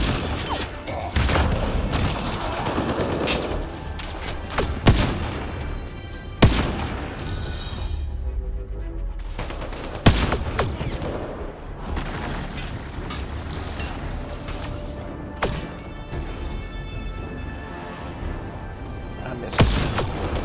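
Sniper rifle fire in the Mass Effect Andromeda video game, several sharp cracks spaced a few seconds apart over a continuous rumble of game effects and background noise.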